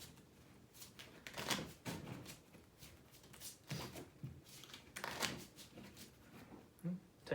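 Playing cards are scrambled, straightened and shuffled face down on a table during a triple draw poker deal, giving soft, quick riffling and tapping bursts that come in short clusters and stay faint and close.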